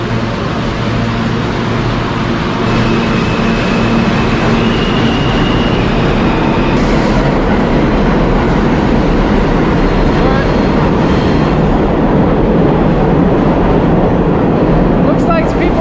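A subway train rumbles steadily on the tracks near the Central Park Zoo stop, a loud continuous roar with brief squealing tones and clatter throughout.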